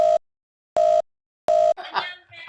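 A video call ringing tone sounds three times in short, evenly spaced beeps, loud and clean. A voice then speaks right after the third ring.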